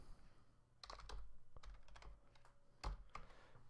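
Typing on a computer keyboard comes as quick, uneven bursts of close key taps and clacks, fairly quiet over a low background hum, with no speech.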